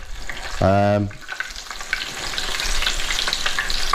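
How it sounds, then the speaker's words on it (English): Steak sizzles and crackles steadily in a hot pan after a short harmonic clatter at the start, close and moderately loud. "We're going to seal our steak on either side."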